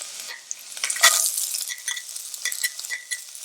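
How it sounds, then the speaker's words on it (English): Chopped onions hit hot oil in a frying pan for vegan Filipino sisig, a burst of sizzling followed by steady crackling frying and stirring scrapes, close and fairly loud, with no talking. "Then we'll add the onions."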